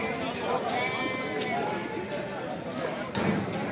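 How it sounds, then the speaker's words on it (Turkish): Sheep and lambs bleat repeatedly amid a noisy crowd at the Kadirli livestock market in Turkey, with someone talking over the animal calls throughout. "Erkek kuzular bakılmış"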